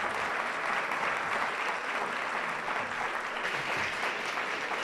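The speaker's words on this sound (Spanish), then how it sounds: "les damos por favor un fuerte aplauso al panel" A large audience claps for a panel on technology and regulation at a conference, a dense, sustained wash of applause holding steady and fairly loud throughout, with no speech over it.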